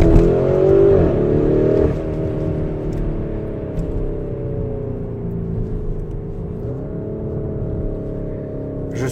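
A Lamborghini Urus engine pulls hard under acceleration, a loud, close rumbling growl with clear harmonic tones that climb, dip at a gear change, then rise again, heard from inside the car without talk.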